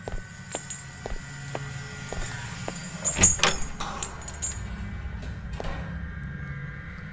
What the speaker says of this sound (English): Opening doors in this game is like...